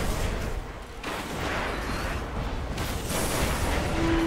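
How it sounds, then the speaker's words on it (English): A grenade rocket explosion in the video game Destiny, a loud booming blast with a rumbling tail that fills the whole moment, no talk over it. "Oh shit, grenade! No, grenade rocket!"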